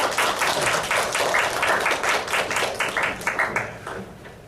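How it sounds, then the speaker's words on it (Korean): Church congregation applauding to welcome newly registered member families during a Sunday service, a dense steady wash of many hands clapping close by, no talking, gradually thinning toward the end. "큰 박수로 환영해 주시면 감사하겠습니다"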